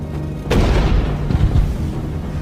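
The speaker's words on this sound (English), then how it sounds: "The first cannon shot of the Second World War is fired on Danzig." A cannon shot fires on Danzig at the opening of the Second World War: one loud, deep boom with a sharp onset, followed by rumbling low-frequency echoes.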